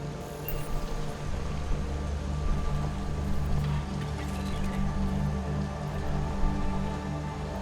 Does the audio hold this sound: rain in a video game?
yes